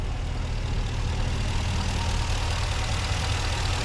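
A 2020 Ram 1500 Limited 4x4 with the 5.7-liter Hemi V8 idles smoothly, giving a steady, even low rumble with no other sounds.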